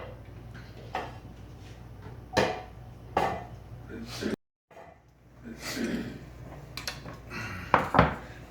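Cooked carnitas pork is shredded for street truck tacos, with scattered clicks, scrapes and utensil clatter at an uneven pace and a brief pause partway through. Faint background noise sits under the handling sounds.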